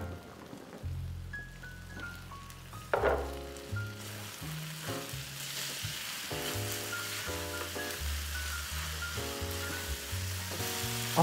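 Kimchi and rice fry in a pan with sesame oil, a steady hissing sizzle with intermittent crackles and a few stirring scrapes, heard alone at close range beneath faint background music.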